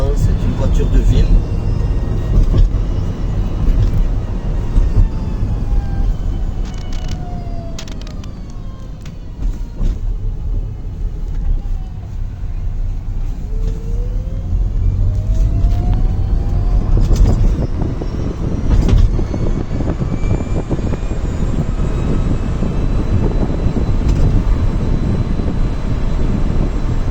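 A Citroën Ami, a small electric city car, running flat out at its top speed of 45 km/h, giving a steady loud road and wind rumble throughout, with a person talking over it.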